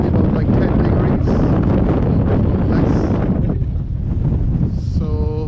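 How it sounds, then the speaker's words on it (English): Strong cold wind buffets the microphone on Poole beach, a loud continuous roaring rush that dips briefly near the end, with a faint sea wash beneath. "It's quite windy, and it's cold wind as well."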